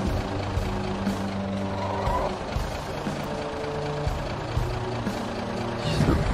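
A vehicle in the zombie-survival game Project Zomboid drives steadily over zombies, its engine a continuous low rumble with occasional thuds and bumps, heard up close with no talk over it.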